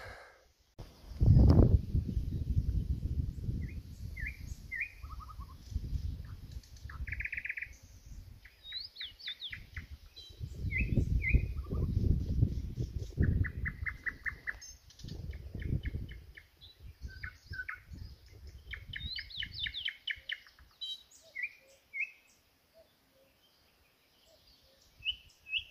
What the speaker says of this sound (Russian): Соловей, что ли, поет?